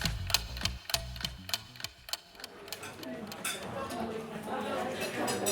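Steady clock ticking sound effect, a regular run of sharp ticks over the first couple of seconds that then fades under a busier wash of sound with talk present.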